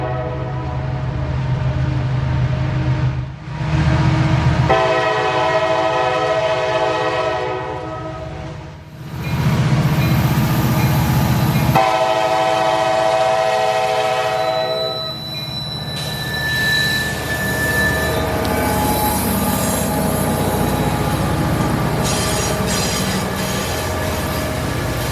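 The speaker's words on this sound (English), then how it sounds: "T736 is a southbound loaded coal train out of Corbin, Kentucky, bound for Charleston, South Carolina." Loaded southbound coal train out of Corbin, Kentucky, led by a new ST-70 locomotive, passing close and loud with long blasts of its horn over rumbling, squealing wheels and cars.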